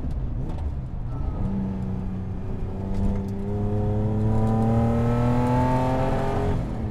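A Datsun 280Z hot rod engine pulling through a corner, a steady whirring drone that climbs in pitch as power is fed back in, fairly close and unbroken, with no talk.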